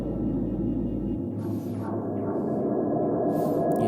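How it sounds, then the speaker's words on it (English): Atmospheric background sample in an FL Studio beat: a soft, sustained ambient pad with a deep low tone that cuts off early, and faint airy swells rising and fading above it. "I added an atmosphere sample just to serve as a background for the"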